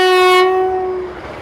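Vande Bharat Express on the New Delhi–Katra route sounding a loud, sustained horn tone close by, the blast cutting off after about a third of a second and ringing away into rumbling rail noise.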